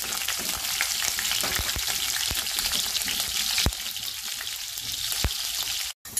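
Cardamom pods, jeera, green chili and shallots sizzle steadily in hot oil in a pan, a dense continuous crackle with a few sharper pops and a brief drop to near silence just before the end.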